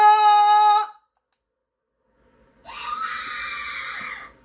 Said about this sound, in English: Okay, so she screams.